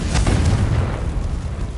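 Confringo spell explosion in Hogwarts Legacy, a loud, close, deep boom that rumbles and slowly fades over a couple of seconds, with no voices.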